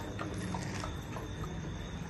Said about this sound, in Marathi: सफेद घोड्यावर होऊन स्वार